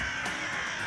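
Crows caw outdoors, a harsh bird call set against a steady, bright background hiss, with the calls fairly faint and blended into the noise.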